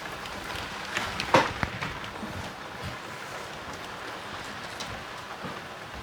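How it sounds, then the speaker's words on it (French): Rain falling outdoors, a soft steady patter with a brief louder splash or knock near the start, otherwise even and fairly faint. "Il est en train de pleuvoir."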